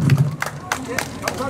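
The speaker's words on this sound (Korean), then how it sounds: "지금 방금 경남에서 오늘 출산장려 선언문에서 힘찬 박수 보내주시기 바랍니다" Brief burst of audience applause at a birth-encouragement declaration event, scattered claps mixed with crowd murmur and a voice over it.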